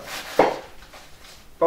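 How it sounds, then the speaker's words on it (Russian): A knife slices salad vegetables on a board for a sandwich-style salad, giving a few short, close cutting taps spaced apart in a quiet kitchen. "Нарезаем."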